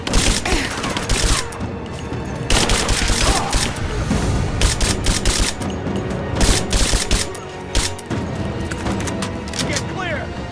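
Rapid bursts of gunfire and explosive booms from combat in the action-adventure game Rise of the Tomb Raider, loud and nearly continuous with dense volleys, under shouted voices.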